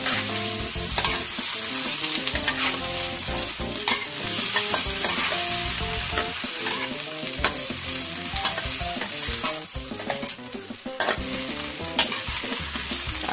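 Vegetables are stir-fried in a hot oiled pan, a continuous loud sizzle with frequent rhythmic scrapes and tosses from a spatula, close up and with no voices.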